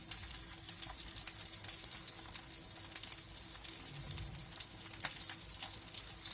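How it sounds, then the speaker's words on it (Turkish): Meatballs sizzle and crackle steadily in a hot pan over low heat, a dense, even frying hiss with small pops throughout. "Kısık ateşte artılı önlü kızartıyoruz."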